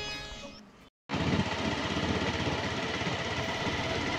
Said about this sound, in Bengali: তো এগিয়ে চলেছি বাইক নিয়ে, সকাল সকাল